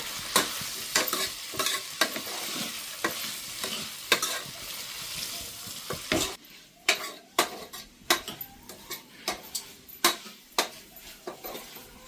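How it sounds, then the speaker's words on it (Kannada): Fresh green peas fry in a pan while a spoon stirs them, giving repeated sharp scrapes and clinks in an irregular rhythm over a soft sizzle, close and clear. "ಒಂದು ಐದು ನಿಮಿಷ ಅಷ್ಟ ಕೈ ಬಿಡಂದ ನಾವು ತಿರುಗ್ಬೇಕ್ರಿ"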